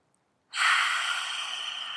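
A forceful breath pushed out through the mouth during a Pilates core exercise, a single sustained airy exhale that starts abruptly after silence and fades slightly over two seconds, close and alone.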